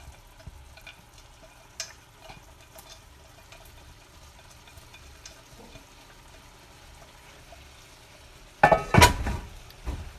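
Chicken teriyaki with scallions, vegetables and nuts stirred in a pan, quiet scattered clinks and scrapes at first, then a sudden loud burst of clattering stirring near the end.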